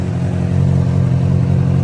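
A used motorcycle engine in well-maintained condition idles steadily at close range, a continuous low rumble that holds an even, unbroken tone throughout with no voices over it.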